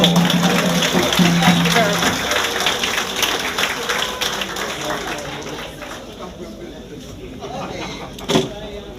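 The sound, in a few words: clapping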